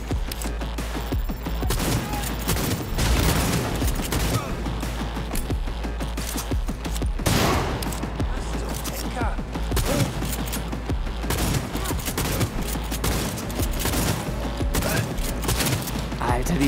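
Rapid gunfire fills a Cyberpunk 2077 firefight on PC, with bursts of automatic shots and booming impacts running almost continuously and loudly under players' voices.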